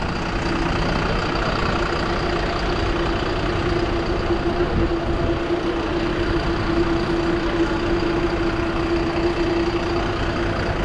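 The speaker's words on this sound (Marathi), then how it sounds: "Volvo bus. त्याचं इंजिन मागे असतं." A Volvo 9600 BS6 bus with a rear-mounted 8-cylinder, 350 horsepower engine idles at an Indian Oil petrol pump, giving a steady, even rumble with a constant low hum and no voices.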